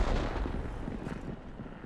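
A single heavy tank cannon blast from the World of Tanks video game booms loudly at the start and rumbles away over the next second and a half.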